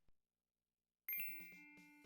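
Points chime from the video game Police Quest 4: after a short tick and a second of silence, a bright ringing ding sounds, followed by a few soft rhythmic tonal notes that decay gently.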